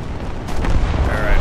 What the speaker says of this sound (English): There's like three AA guns that opened up on him.